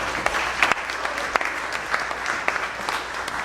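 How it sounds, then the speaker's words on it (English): Audience applause at a civic address by a Pennsylvania city official: steady, dense clapping from a sizeable crowd, even in level throughout with a few sharper individual claps standing out, no speech over it. "let's clap for that"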